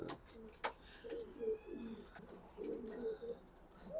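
A large racing pigeon, a hen raced as far as Chittagong, gives quiet guttural coos in short bursts, close but faint, with a few sharp clicks and taps between phrases.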